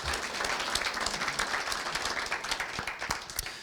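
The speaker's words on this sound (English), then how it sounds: "I'm going to ask for one more round of applause for our volunteers in general" Attendees at a PMI chapter dinner clap for volunteers, a steady round of applause from a modest indoor crowd, fairly distant and even throughout, with individual claps standing out now and then.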